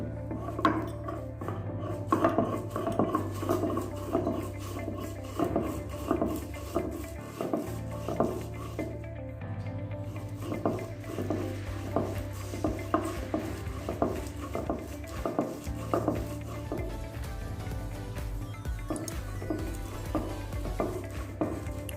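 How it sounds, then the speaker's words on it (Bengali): Rhythmic grinding and scraping of dried fish on a grinding stone, repeated strokes in a steady back-and-forth pattern, close by and unbroken by talk. "অনেক সুন্দর শুটকিগুলো বাটা হইতেছে"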